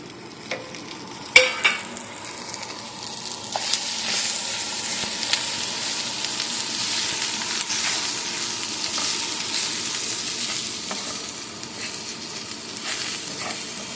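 Chopped vegetables frying in a pan for a Punjabi egg roll filling, a steady close sizzle with occasional stirring clanks and scrapes, a couple of sharper knocks near the start, no talking.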